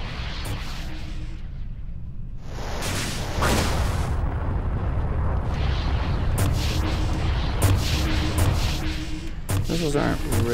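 Missile blasts from a spaceship fight in the space game Everspace boom in heavy bursts over a loud, continuous engine and weapons roar, with several sharp impacts scattered across the clip.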